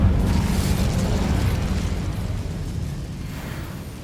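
Incendio fire spell cast in Hogwarts Legacy, a loud whooshing burst of flame at the start that roars and gradually fades over about four seconds, with no talking.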